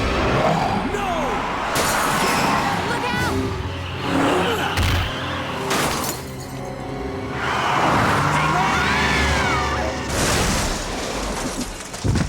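A police car crashes in a Resident Evil 2 cutscene on the 1998 PlayStation: loud shattering and crunching impacts and a roaring engine, layered with dramatic game audio and voices, continuous and dense throughout.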